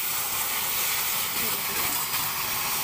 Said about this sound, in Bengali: এবার ওর ভিতরে আমি ঢেলে দেব নামিয়ে রাখা সিদ্ধ করা পুঁই শাক